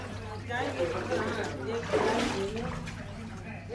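Floodwater in a waterlogged residential street in Delhi sloshes and splashes as someone wades through it, a continuous close wet churning under a steady low hum, with a voice talking over it.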